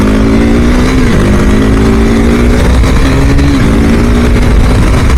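A superbike motorcycle rides along a highway on new tyres, its engine droning loud and steady with a shifting pitch, under heavy rushing wind noise.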